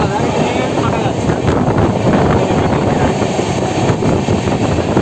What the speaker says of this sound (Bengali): প্রচুর স্পিড নিয়ে কিন্তু লিলুয়া স্টেশন ক্রস করছে আমাদের এই এক্সপ্রেসটা